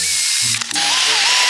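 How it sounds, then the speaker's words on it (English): A high-pitched power drill whines steadily, with a brief stutter midway as the bit bites into the metal of a fire extinguisher, loud and close. "Now you're gonna want to drill a hole in."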